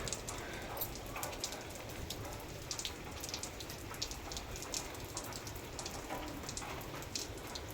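Steady rain falls on hard surfaces outdoors during a sunshower, a dense patter of close drops with sharper individual splashes throughout, no voices.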